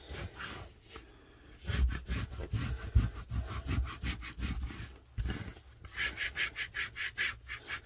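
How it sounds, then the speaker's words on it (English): Transfer tape being burnished onto a glass panel for alcohol ink wall decor, giving repeated close rubbing and scraping strokes in an uneven rhythm, fairly loud and without talk. "At this point, you can burnish it as much as you want."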